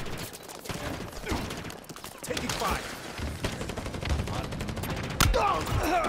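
Rapid bursts of automatic gunfire and explosions fill a Halo Infinite Stronghold multiplayer match in continuous, layered volleys, with players talking over the fighting.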